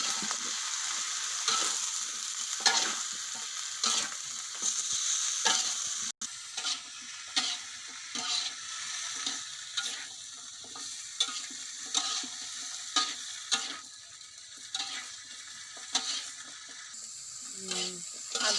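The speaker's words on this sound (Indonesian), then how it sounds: "kalau kita tumis seperti ini agar warnanya cantik, masih hijauan dia" Green vegetables are stir-fried in a wok with a soft, continuous sizzle and a regular rhythm of spatula stirring and scraping that carries through the whole stretch, with no talk.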